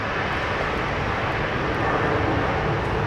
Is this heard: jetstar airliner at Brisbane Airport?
yes